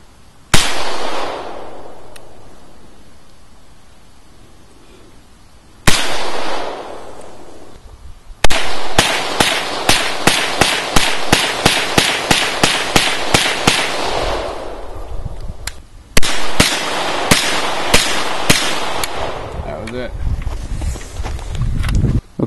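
A newly bought gun is fired at a shooting range: two booming single shots with long echoing decay, then a rapid string of about twenty cracks, a pause, and another quick volley of cracks.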